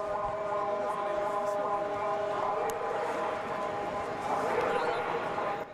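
Sirens wail across Mexico City after a magnitude 7.1 earthquake, steady sustained tones over a dense, noisy street background that swells slightly toward the end.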